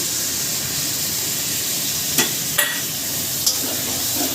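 Spices being sautéed with a little stirring in a pan while cooking mustard hilsa with eggplant, giving a steady low sizzle with a few soft scrapes near the end.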